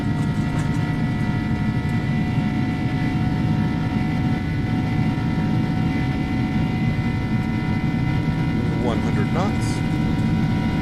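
Airbus A300-600F jet engines spooling at takeoff power in X-Plane 11, a loud steady roar with tonal whine, heard from the cockpit on departure from Brussels.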